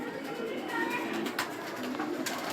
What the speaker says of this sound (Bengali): বিশাল বড় কবুতরের ফার্মে চলে আসলাম।